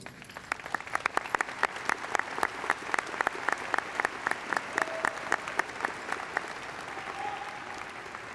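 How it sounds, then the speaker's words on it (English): Audience applause at a 2019 high school graduation ceremony, a crowd clapping steadily and fairly close for about eight seconds, with sharp individual claps standing out over the wash of hands. "we will congratulate them with our applause"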